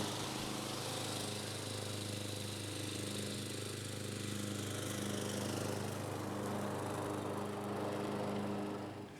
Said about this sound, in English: a decent mower cuts it accurately